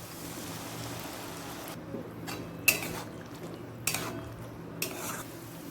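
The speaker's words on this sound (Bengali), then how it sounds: "পোস্তর বাটিটা একটু জল দিয়ে ধুয়ে দেবো" Water swishes in the bowl that held the poppy seed paste as it is rinsed during Bengali home cooking, a soft continuous wash punctuated by a few sharp clinks of metal against the bowl.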